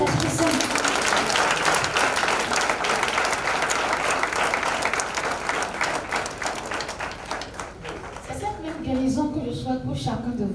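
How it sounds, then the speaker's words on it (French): A large crowd at a religious gathering at the Mission of Banamè applauds loudly and continuously, the clapping thinning slightly near the end as voices come through underneath. "applaudissez l'Esprit Saint"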